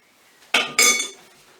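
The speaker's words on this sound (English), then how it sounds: "Now these are going straight into a moderate oven" Metal cheesecake tins clattering and clinking as they are pushed into a moderate oven, two sharp close bursts of metallic rattle in quick succession, with no talk.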